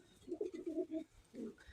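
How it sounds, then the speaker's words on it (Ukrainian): A pigeon coos close by in a pigeon loft, a soft rolling series of low throaty notes followed by one more brief coo, quiet and alone. "тепер уже гарний голуб"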